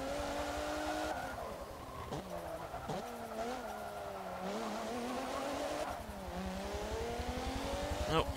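Race cars in Forza Motorsport 7, a stock Camaro among them, roar steadily at close range with shifting engine pitch through gear changes, loud throughout with brief tire noise.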